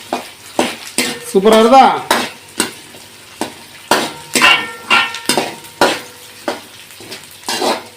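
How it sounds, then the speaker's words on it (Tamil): Small shallots frying in oil for a spicy traditional fish curry, with sharp sizzling bursts as a spoon stirs the pan, clinking against the metal in an irregular rhythm, close and loud, while someone talks over it. "அந்த சின்ன உள்ளி வசங்கி எண்ணெயில் அழகாக வசங்கி வரும்"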